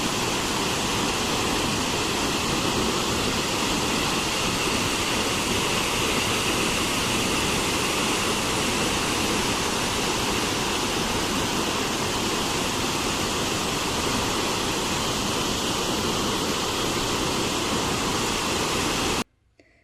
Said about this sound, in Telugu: కొండల మధ్య ప్రవహిస్తూ చాలా ఎత్తు నుంచి కిందికి దుముకుతున్న నీటి ప్రవాహం సందర్శకులను మంత్రముగ్ధుల్ని చేస్తుంది.